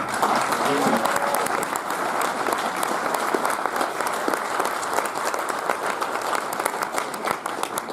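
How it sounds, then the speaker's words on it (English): An audience at a Megacon Orlando 2019 convention panel gives sustained, dense applause from start to end, loud and close, with some cheering mixed in. "Let's get a round of applause for Reggie Cathy."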